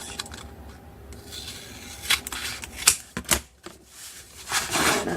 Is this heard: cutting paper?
yes